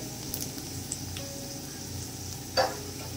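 Peanuts frying in a pan for poha, a steady soft sizzle throughout with faint ticks and one brief louder crackle near the end, no talking.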